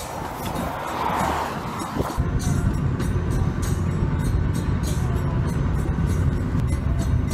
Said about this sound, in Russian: Наконец-то электрички.